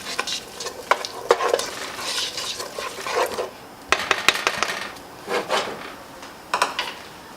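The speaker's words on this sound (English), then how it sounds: "Just throw it all in the pan. Just going to give it a little stir." Onions stirred in a pan for a chicken pot pie, with repeated scraping and clattering strokes of a utensil against the pan over a soft sizzle, coming in bursts with brief pauses between.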